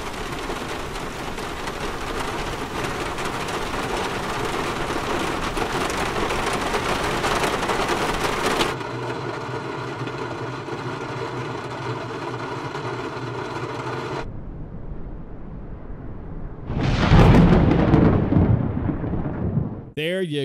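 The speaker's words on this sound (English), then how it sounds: "This is the sound of the rain and its effect on this 172SP." Dense hiss of rain drumming on a Cessna 172SP's body in Microsoft Flight Simulator, cutting out abruptly and returning, followed by a louder, rougher burst of noise.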